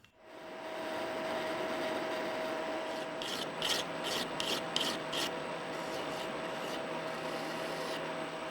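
A brass bar for ship's wheel hardware is threaded by hand, giving a continuous close metallic rasp with a series of sharper rhythmic grinding bursts partway through.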